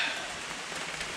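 Steady rain falls outside a garage, a dense, even hiss of drops on surfaces with no voices over it.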